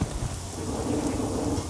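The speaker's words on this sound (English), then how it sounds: "That sound is the rice indeed stir frying a little bit." Steady, dense hiss and crackle of rice stir frying in a hot paella pan for seafood paella, continuous and fairly loud throughout, with no voices.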